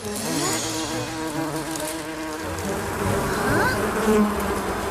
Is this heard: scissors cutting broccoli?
no